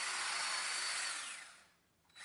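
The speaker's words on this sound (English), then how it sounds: "It's pretty important to pre-drill these holes before driving the screws in." A power drill runs loudly and close while pre-drilling holes and driving screws into wood boards, a steady high whine that winds down and stops, then briefly starts up again.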